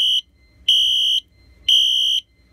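A fire alarm wired to a security system sounds in a coded three-pulse pattern: three loud, steady, high-pitched electronic tones of about half a second each, separated by short gaps, with no talking.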